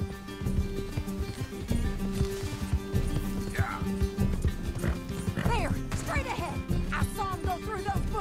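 A horse in the Western video game Red Dead Redemption, with hoof clip-clops and a few whinnies over a busy game soundscape and a steady background hum, while someone talks throughout.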